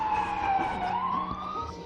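An ambulance siren sounds from a passing emergency vehicle, a sustained wailing tone that slowly dips and rises over traffic rumble, moderately loud and steady.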